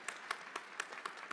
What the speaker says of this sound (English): I think we can clap for these amazing teachers.